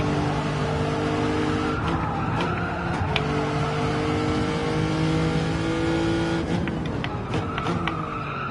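A race car in Gran Turismo 7 during a Nations Cup online qualifier holds a long, steady engine drone while its tires squeal and skid through corners, with sharper scrubbing bursts near the end.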